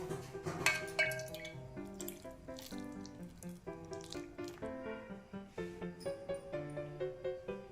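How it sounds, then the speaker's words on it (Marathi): A small amount of water is poured into mashed peas and potatoes for a street-snack filling, giving short wet trickles and squelches over a tuneful musical background. "थोडंसं पाणी टाकून"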